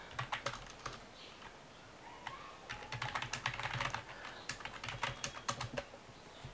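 Rapid irregular clatter of laptop keyboard keys as a search is typed, bursts of keystrokes close and clear over a quiet background, with no one speaking.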